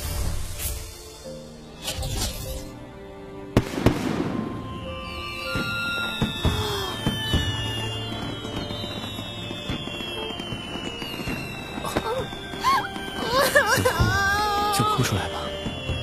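Fireworks set off as a farewell tribute, with bursts, crackles and whistling streaks layered over swelling music, some booms close and loud, others fainter and scattered throughout.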